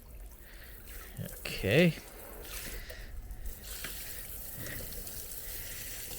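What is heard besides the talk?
tap water running to rinse off ants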